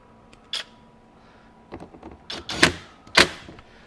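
A screw is driven into the base of a FLEX Stack Pack modular storage rack by hand or with a driver, giving a few sharp, separate clicks and ratcheting bursts close by over quiet.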